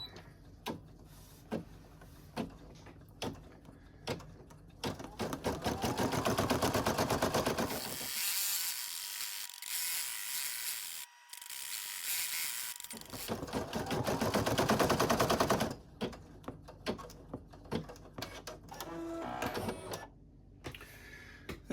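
Embroidery machine stitching out a design in a cheap magnetic hoop, a steady rapid mechanical chatter of needle strokes that swells louder in long continuous bursts with short pauses between.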